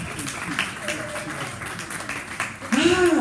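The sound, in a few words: audience applause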